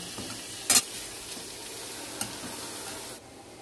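A bay leaf dropped into hot oil, a steady close sizzle with a couple of sharp clinks from a utensil against the pan, then the frying quiets slightly near the end.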